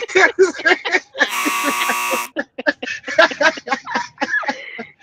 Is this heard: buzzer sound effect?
yes